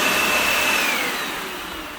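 A Dyson Ball Total Clean UP13 upright vacuum cleaner runs close by with a steady, loud whine and airy roar that eases off slightly toward the end, with no voices.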